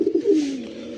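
A close male Bombay pigeon coos once, a few rapid guttural pulses rolling into a drawn-out, falling throaty note that fades within a second.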